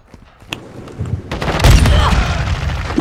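A frag grenade goes off in Call of Duty: Modern Warfare II, a loud rumbling blast that swells after a second and a half and keeps roaring through the rest of the moment, with a few sharp cracks and thuds leading in.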